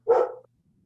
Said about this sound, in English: The dog had a question, I guess.